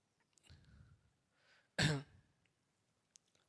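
A man who is unwell coughs and clears his throat once in a sharp, loud burst during a maths lecture, with quieter breathy sounds before it and near silence after.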